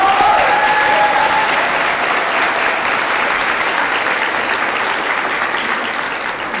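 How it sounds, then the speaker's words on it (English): Loud, sustained applause from the audience at a graduation ceremony for associate degree graduates, a thick wash of clapping that stays strong and fades slightly at the close, with a faint voice or whistle briefly heard early on. "A round of applause for everybody that could not make it today."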